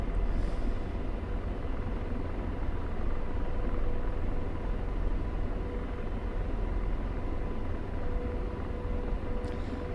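AH-64D Apache helicopter in the DCS flight simulator, heard from inside the cockpit as a steady, dense engine and rotor drone that holds at a constant loudness throughout, with no talk over it.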